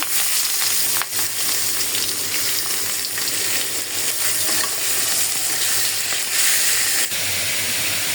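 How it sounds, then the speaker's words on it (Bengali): Fish fries in a pan with a continuous loud sizzle and spitting hiss, punctuated by a few sharp clicks of a spatula or turning, heard up close without any talking. "এখন আমি মাছটা ভেজে নিই।"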